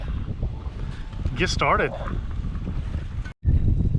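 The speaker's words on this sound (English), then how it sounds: "Man, it's windy." Strong outdoor wind gusts buffet the microphone in a steady roar, and someone speaks briefly over it.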